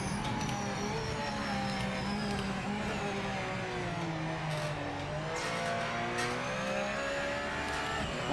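A Porsche GTE race car in the Project Motor Racing video game at Daytona, its engine droning loudly and continuously as it revs up and shifts through gears, with no talking.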